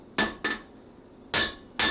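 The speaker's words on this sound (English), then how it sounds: "Bring my hammer in at just the right spot." Four sharp hammer blows ring on metal while forging at an anvil, two in quick succession, a pause, then two more, close and loud with a short metallic ring after each.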